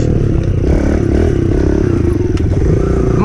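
Dirt bike engine held at steady high revs through a wheelie, a loud continuous close-up drone with rattling clatter and slight rev changes and no pauses.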